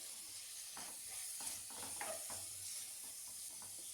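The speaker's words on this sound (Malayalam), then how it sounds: "പിന്നെ അതിലേക്ക് ഞാൻ കുറച്ച് കറിവേപ്പില ഇട്ട് കൊടുക്കുന്നുണ്ട്" Curry leaves crackle and sizzle as they drop into hot carrot curry masala. A faint, steady frying hiss runs throughout, with a few soft stirring scrapes.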